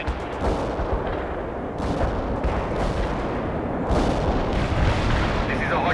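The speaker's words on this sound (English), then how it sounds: "Anti-tank strike is inbound." Anti-tank strike explosions in World in Conflict, a dense run of heavy booming blasts and rumbling impacts layered close together, with faint radio-style voices mixed in.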